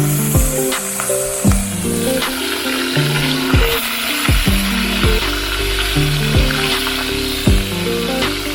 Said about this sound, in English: so the oil is hot now, so it's time to get in the first set of fish